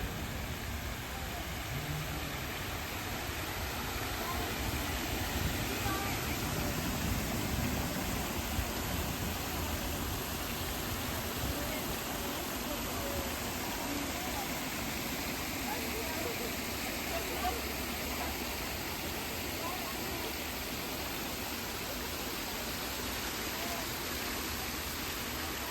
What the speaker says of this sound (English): outside of this building there's a very nice fountain